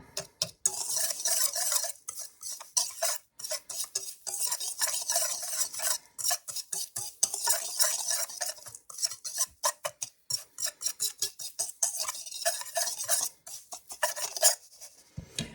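A utensil stirs through a dry homemade Rice-A-Roni mix of rice, pasta and clumpy beef bouillon, breaking up lumps with rapid, close scraping and rattling against the container, continuous and steady with no talking.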